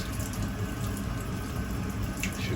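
Water runs steadily from an opened hot tap in a domestic plumbing system being drained of cold water, a soft continuous hiss and splash at low level with no talk.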